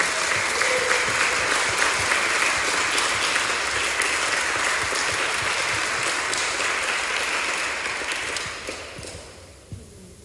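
Sustained applause fills a church gathering, dense and steady clapping from a congregation that gradually thins and fades out near the end.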